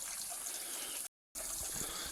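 Cold spring water trickling and gurgling softly at a village source, a faint continuous flow briefly interrupted by a moment of silence before resuming.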